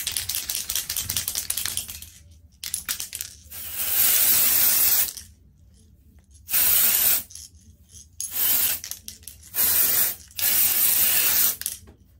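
Aerosol temporary silver hair color hisses out in repeated bursts of about one to two seconds each, close and loud, separated by quiet pauses.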